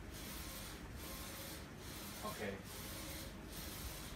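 A DTG t-shirt printer runs with a steady broadband mechanical whir and a regular rhythmic pulsing as the print head passes, continuous throughout, with a brief spoken word over it.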